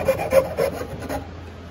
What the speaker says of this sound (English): You could also use this rasp over here on the heel block. Kind of grinding that away.